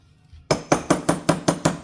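A hammer strikes a metal punch seven times in a steady rhythm on a turbocharger clamp during a 300ZX turbo rebuild, each tap a sharp, ringing metallic clink, close and loud with nothing else heard.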